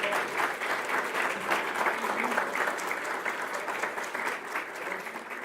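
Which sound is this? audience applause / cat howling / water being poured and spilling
audience applause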